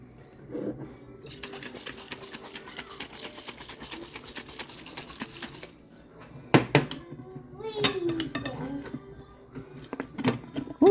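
Rapid rattling and sloshing as a pasta sauce jar with water inside is shaken steadily for several seconds, followed by clunks and handling noises.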